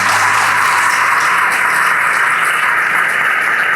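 Steady applause fills a church congregation at a sermon, a dense continuous wash of clapping at constant loudness with no talk on top.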